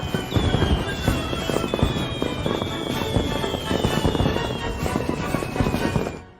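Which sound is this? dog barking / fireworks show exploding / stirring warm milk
fireworks show exploding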